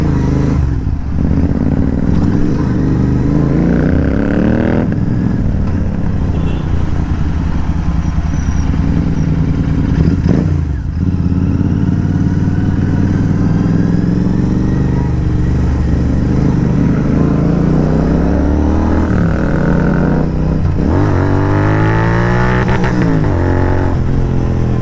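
A Royal Enfield Continental GT 650 fitted with an AEW TE101 aftermarket exhaust revs loudly up close, deep throbbing rumble with repeated sharp throttle blips and rising sweeps, on a road with traffic around.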